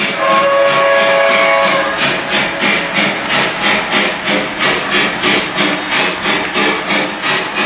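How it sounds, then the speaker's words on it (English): A Lionel Reading Consolidation model steam locomotive on an O-gauge layout sounds its whistle, a steady tone for about two seconds, then a quick rhythmic chuffing that pulses evenly at close range with no talk. "The whistle is nice."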